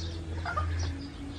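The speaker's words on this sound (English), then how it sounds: "Some birds in there, look a bit sleepy" Chickens cluck and chatter near the rooms at Villa Navarro Resort in La Union, Philippines, a few short calls rising over a low steady hum, with no voices.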